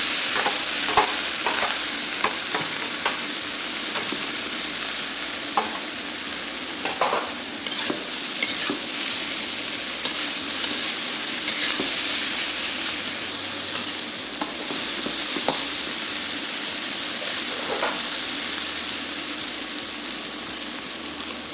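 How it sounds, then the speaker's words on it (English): Mushrooms and salmon stir-frying in a hot pan, a steady bright sizzle with repeated scraping and stirring clicks of a utensil, close and continuous throughout with no talking. "Next, add in the mushrooms and fry them for about a minute."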